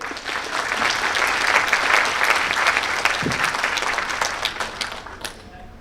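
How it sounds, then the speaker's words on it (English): A crowd of guests applauds at an honorary fellowship awards ceremony: a steady, dense round of clapping that holds for several seconds at even loudness, then thins slightly toward the end. "Can we give a big round of applause to all of our guests I just mentioned?"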